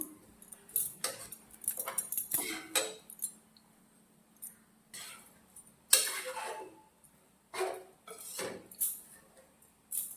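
A metal spoon scrapes and clinks against a bowl while mixing powdered ingredients for a homemade snack, in irregular bursts of clattering separated by quiet pauses.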